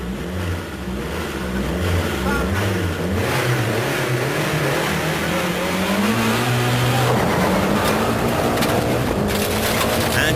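A 1989 works Lancia Delta Integrale rally car revs hard, its engine note rising and falling in rapid swoops before settling into a sustained high-pitched drone, loud and close throughout.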